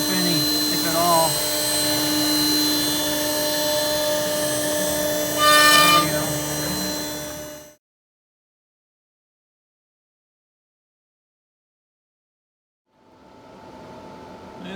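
A CNC router spindle whines steadily while cutting a longboard deck, its even tonal drone holding for several seconds, then cutting off into silence before faintly starting up again.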